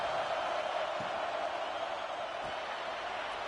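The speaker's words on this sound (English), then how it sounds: "The Sooner fans booming, a cacophony of noise" Sooner fans in a packed football stadium make a steady, distant roar, a broad wall of crowd noise that holds even and fairly faint throughout with no clear peaks.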